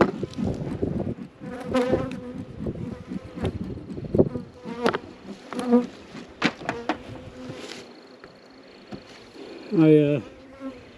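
Honeybees buzz at open beehives while a beekeeper works through a hive, a steady insect hum under intermittent talking, with a louder close buzz near the end.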